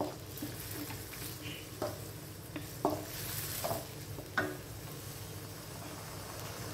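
Bamboo shoots and pork belly being stir-fried in a pan with a little water, a steady quiet sizzle broken by several scraping stirs and clacks of the utensil, with no talking.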